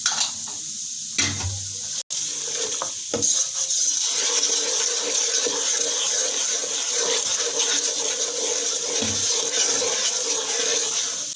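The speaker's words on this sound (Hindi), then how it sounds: "दो टेबल स्पून जितना मैंने पानी डाला है दोबारा मसाला भूनने के लिए" Water poured into a pan of frying curry masala for kofta curry gives a continuous loud sizzle and bubbling hiss that runs steadily for about ten seconds, with a few clanks of a spoon near the start.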